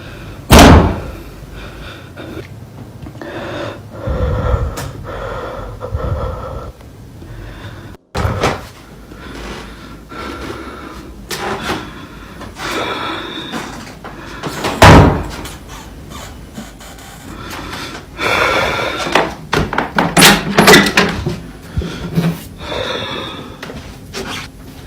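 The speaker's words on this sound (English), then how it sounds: "he wakes up to knocking coming from inside his closet" Sharp knocks and bangs from inside a bedroom closet at night, scattered irregular thumps and wooden slams, some loud and close, with quieter rustling between them.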